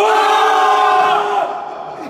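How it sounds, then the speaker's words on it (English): At a justice center event, a crowd screams at full volume in one loud, sustained burst that fades toward the end. "Scream to the top of your lungs."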